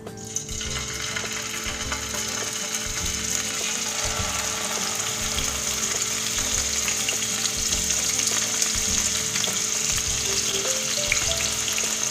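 Pork frying in hot oil over medium-high heat, a loud, steady crackling sizzle that fills the whole stretch without pause, close up and with no voices.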